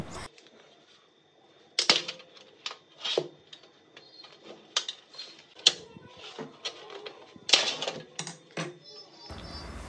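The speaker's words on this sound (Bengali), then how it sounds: "এই ক্লিপ দুটোকে স্ক্রু ড্রাইভারের সাহায্যে খুলে নেব" A screwdriver prying clips off a greasy kitchen chimney filter makes a series of sharp metallic clicks, snaps and scrapes in irregular bursts, close up, with quiet pauses between and no talking.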